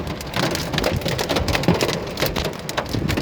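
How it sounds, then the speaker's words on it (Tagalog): Heavy rain mixed with hail pounds a surface during a storm in Adelaide, South Australia, a loud, dense, continuous patter with sharp hard hits scattered throughout. "Ayan, may kasamang yelo ang ulan."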